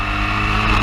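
A Formula Ford racing car at Brands Hatch in a 2016 historic race, its engine a loud, steady buzzing drone held for a brief moment as it passes close by.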